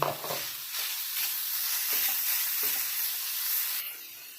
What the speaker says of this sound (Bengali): এগুলো এবার তেলের ওপরে দিয়ে দেবো হালকা ভেজে নিয়েছি